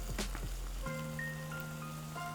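A faint ice cream van chime plays a simple tonal melody from outside, far off and quiet, following a brief low rumble and clatter.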